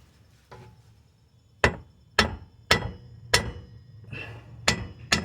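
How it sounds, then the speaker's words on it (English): A hammer taps the driveshaft of a 3.6 GMC Acadia during removal: seven sharp metallic knocks, loud and close, spaced about half a second apart after a faint earlier touch, with no talking. "just tap it with the hammer"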